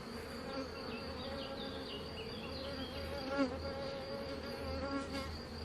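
Honeybees buzzing steadily at an opened hive during an inspection of brood frames, a dense, continuous hum with individual bees droning past, alone without talk.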